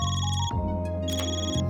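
A flip phone rings in the video game Trails Through Daybreak, an electronic ringtone with steady tonal chirps in two bursts separated by a brief gap, loud and close with no talk.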